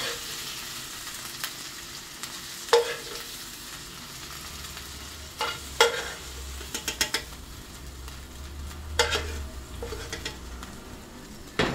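Chicken meat sizzling and frying in a hot pan for pizza, a steady crackling hiss broken by several sharp clatters of a utensil stirring and scraping against the pan.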